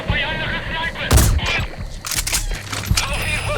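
Gunfire in Metal Gear Solid V: The Phantom Pain: a few loud, sharp shots burst out at intervals over a murky game background with faint, muffled voices and electronic tones.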